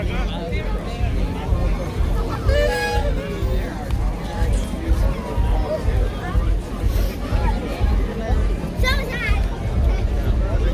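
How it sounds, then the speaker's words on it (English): A large crowd at the EPCOT New Year's Eve party fills the air with steady babble and chatter, with a nearby voice talking over the hubbub. "But this is the crowd on what you deal with on New Year's."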